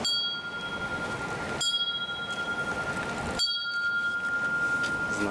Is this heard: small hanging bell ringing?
yes